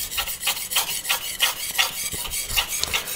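A kitchen knife drawn across a very hard 800-grit CBN whetstone, giving close, steady, rhythmic scraping strokes about three per second with no talking.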